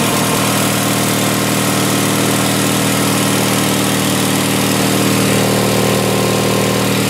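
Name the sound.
Sears Suburban SS16 16HP Onan twin-cylinder engine running after cold start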